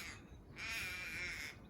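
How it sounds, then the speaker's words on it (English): A crow caws outdoors, one long harsh drawn-out call rising clearly over a quiet background, no voices alongside. "that crow just wants to speak"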